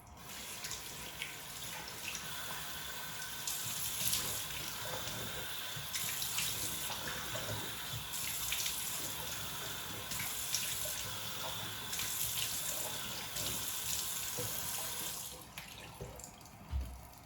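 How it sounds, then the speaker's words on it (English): Tap water runs steadily into a sink while a face is rinsed, a constant close hiss with soft splashing surges at regular intervals and no talking. "I'm going to go ahead and rinse"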